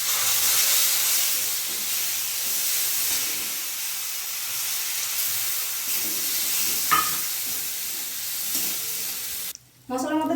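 A spice paste with ginger hits hot oil for a Bengali chana dal, giving a loud, steady hissing sizzle that gradually settles, marked by a few soft clicks, with a brief different sound at the very end.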